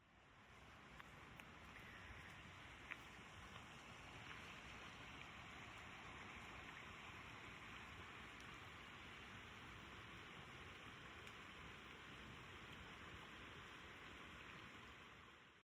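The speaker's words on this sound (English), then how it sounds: "this is what it looks like when it's raining" Rain falls on a wooded hiking trail in Rouge Park near Toronto as a constant, fairly faint hiss with occasional drip ticks and no voices.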